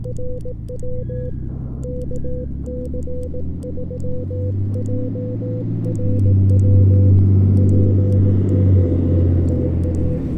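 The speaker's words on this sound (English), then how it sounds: "Big truck." A heavy engine rumble swells and builds as a large truck passes nearby, its low drone growing louder over a faint electronic tone.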